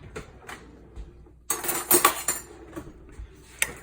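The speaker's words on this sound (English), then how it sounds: "make sure that you stir it up so that any liquid that's formed on top is incorporated back into the starter" A spoon scrapes and clinks against a container while sourdough starter is stirred, with a few light taps and then a dense burst of stirring noise in the middle, close and fairly quiet, no voices.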